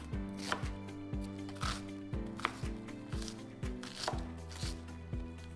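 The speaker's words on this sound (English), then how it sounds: "we're gonna use a half a white onion. And we're gonna just finely chop this." A knife chops half a white onion on a cutting board in a steady rhythm of about a dozen crisp, close taps, clear and alone.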